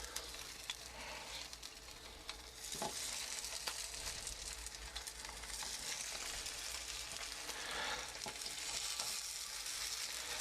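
Ham patties fry in garlic oil with a steady, dense sizzle that holds throughout, with occasional faint clinks of a utensil.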